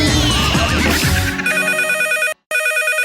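A telephone rings on a radio comedy show, a steady electronic ringtone with bright repeating tones that emerges loud and clear after a burst of jumbled noise, with one short silent gap near the end.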